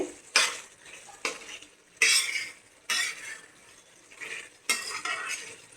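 Spice paste being stirred and fried in a pan, six or seven sharp scraping strokes of a utensil at a slow, uneven rhythm, each fading into a faint sizzle, close by, with no talk.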